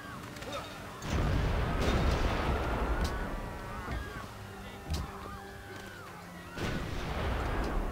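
Civilization 5 attack on Smolensk: booming artillery-style blasts and crashing impacts roll in bursts, loud and close, with a quieter stretch between volleys and a battle din layered underneath.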